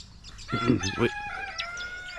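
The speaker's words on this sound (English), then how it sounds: "Alright, Mr. Rooster, I get it." A single rooster crows clearly nearby at a scrap metal recycling site, a sharp rising call that stretches into a long wavering tail, against a quiet background.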